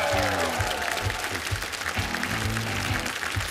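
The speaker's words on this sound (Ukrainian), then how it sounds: "Ваші оплески жартам, які читав Владзо." Studio audience applause for jokes on a Ukrainian comedy show, a dense, continuous burst of clapping from a crowd with a host's voice talking over it in places.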